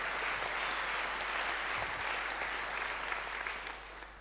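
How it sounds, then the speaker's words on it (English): Audience applause greeting the next speaker at EuroPython 2019 lightning talks, a steady wash of many hands clapping at moderate distance, fairly quiet overall and fading slightly toward the end over a constant low hum. "let's give him a big round of applause"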